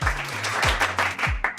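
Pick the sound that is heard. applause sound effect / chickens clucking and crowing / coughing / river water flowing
applause sound effect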